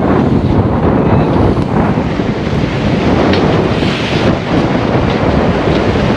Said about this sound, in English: it's a little windy and wavy, but it's good